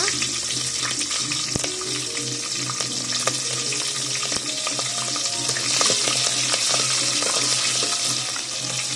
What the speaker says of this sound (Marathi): कांदा हलकासा तळून झालेला आहे थोडासा ट्रान्सपरंट झाल्यासारखा